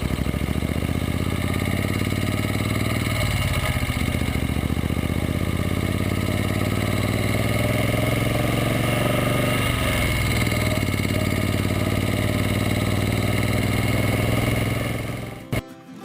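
A motorcycle engine drones steadily for the full ride on the way toward the Dempster Highway, with wind rush and slight shifts in pitch from throttle changes, before cutting off abruptly at the end.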